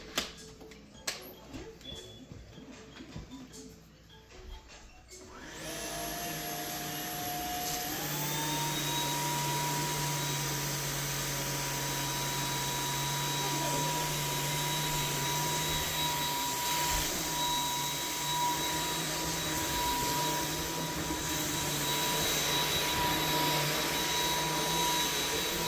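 A Samsung Jet 75 cordless stick vacuum cleaner starts up after a few seconds of handling clicks, then runs with a steady loud whine and airflow rush, rising briefly in pitch, continuing alone without talk.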